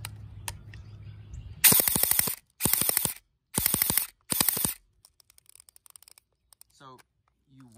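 Airsoft gun fed from a drum magazine fires on full auto in a backyard, four loud rapid bursts of shots separated by short pauses, then quiet with faint clicks of handling.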